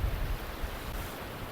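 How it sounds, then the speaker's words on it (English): Surf rolls onto a beach where someone is wading out to fish, a steady, broad wash of breaking waves with no voices over it. "Look at them waves coming in now, I ain't wading out anymore."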